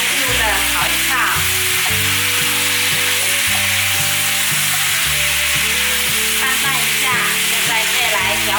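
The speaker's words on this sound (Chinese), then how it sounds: "排骨翻炒，白盐略炒一下，把酸盘子放进来， 快速的炒一炒" Ribs stir-fried with salt and taro abacus dumplings (Hakka suanpanzi) in a wok, loud continuous sizzle with scraping and tossing of the spatula throughout, no talk.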